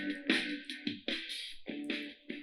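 Music from a Lenovo K3 Pro Bluetooth speaker at about half volume, fairly quiet, with repeated phrases starting and stopping in short bursts.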